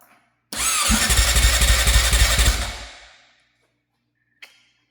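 Electric starter on a Honda CRF450X dirt bike with its gas tank removed, cranking slowly with a loud, rough, pulsing churn for about three seconds that winds down and stops, followed by a single faint click.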